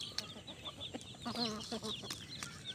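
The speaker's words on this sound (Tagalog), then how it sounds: "Ang ating alagang labuyo na tandang." Pet labuyo junglefowl rooster, a fairly tame cock with spurs, gives soft clucks and short chirpy calls at close range against faint background chatter of other birds.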